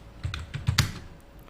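Brief typing on a computer keyboard while a paragraph is written into a website builder: a short, irregular run of crisp keystrokes, close and moderately quiet, with no voices.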